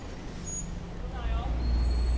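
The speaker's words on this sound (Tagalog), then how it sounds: "Traffic." Road traffic on a Makati street, with the broad low rumble of passing vehicles and a hiss of a bus air brake partway through, heard steadily from close by during a fixed-gear bike ride.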